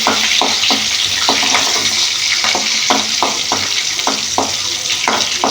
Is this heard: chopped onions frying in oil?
yes